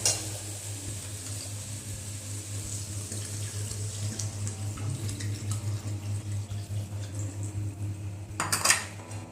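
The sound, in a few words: water poured into pot while cooking khichuri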